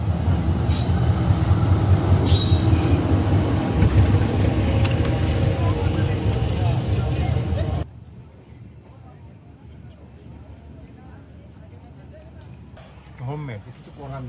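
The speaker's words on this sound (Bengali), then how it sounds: "এই ভুতুরে ট্রেনটা দেখি ইঞ্জিন ছাড়া উল্টো দিকে যাচ্ছে।" A passenger train rolls slowly backwards without an engine through a station, a loud rumbling of wagons and wheels that cuts off abruptly to quieter ambience with voices talking nearby.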